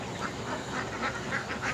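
Ducks on a duck farm at Chettipalayam, Coimbatore, quack in a steady run of about six close, loud calls over a busy flock background, with no talking.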